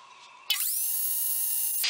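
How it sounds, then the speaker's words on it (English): A drill bites into a wooden dining chair part, starting with a brief quiet lead-in before the high whine jumps in sharply, sags slightly under load, then holds steady and cuts off near the end. "And we start to drill"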